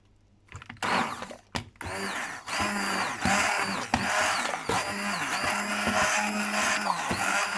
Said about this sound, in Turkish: Blenderımızda karıştırmaya devam ediyoruz.